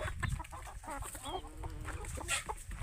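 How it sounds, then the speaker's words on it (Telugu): Roosters in a poultry flock cluck softly and irregularly, with scattered short calls at a modest distance over a noisy farmyard background. "ఎప్పుడైతే ఇవి పుంజులు మాత్రమే పెట్టుకున్నాను"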